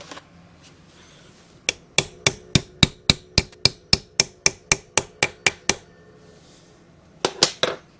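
Hammer striking metal on a workbench during a diesel injection pump rebuild: one lone blow, then a rapid steady run of about fifteen sharp ringing hits, a pause, and a final quick cluster of three.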